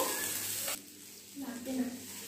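Potatoes and soybeans frying in oil in a wok for a soya curry, a steady close sizzle that dips briefly midway and then returns with faint stirring.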